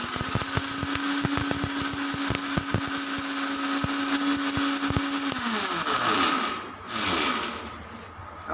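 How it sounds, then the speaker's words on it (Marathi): An electric kitchen mixer grinder pulverizes sun-dried ginger into powder, a loud steady motor whine with rattling bursts that winds down and stops near the end, alone with no voices. "आता आपण हे मिक्सरला बारीक करून घेऊ."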